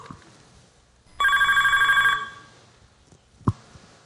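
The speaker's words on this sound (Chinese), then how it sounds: "等下你的电话" A telephone rings once in a close, loud electronic burst of about a second, followed by quiet and a single sharp click.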